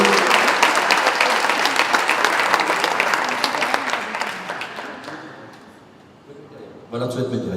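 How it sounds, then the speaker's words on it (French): An audience claps at a slam poetry final, loud at first and then fading away, before a voice starts speaking near the end. "Donc voilà, vous pouvez l'applaudir"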